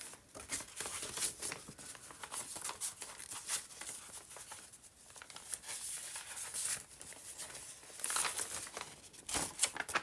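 Printed paper for a journal being handled makes soft, close crinkling and light tearing-like rustles that come and go over the whole stretch, fairly quiet, with no voices.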